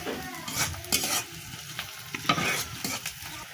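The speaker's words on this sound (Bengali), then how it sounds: "পেঁয়াজ আর মরিচগুলো ভালোভাবে নেড়ে ভেজে নিতে হবে।" Chopped onion and green chilies are stir-fried in a pan, the sizzle rising and falling under repeated scraping strokes of a spatula, close and fairly loud.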